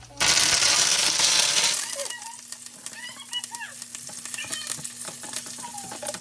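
Shallots, curry leaves, garlic and ginger sautéing over a flame, opening with a loud hissing burst as they hit the hot oil, then settling into a softer crackle with light stirring clinks.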